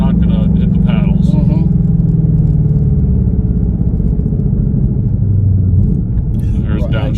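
A 2020 Ford Mustang GT500 with a DCT transmission downshifting while slowing in manual mode: a loud, steady engine rumble from inside the car, the pitch dropping as revs change, with people talking over it.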